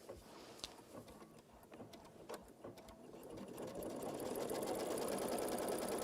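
A sewing machine runs a squaring stitch on a pot holder, heard as a quiet, rapid mechanical whir with ticking. It is faint at first, grows steadier and louder, and there is no talking.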